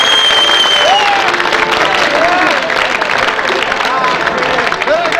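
A comedy show audience gives sustained, dense applause with some cheering and crowd murmur, loud and continuous throughout, while a voice calls out faintly over it.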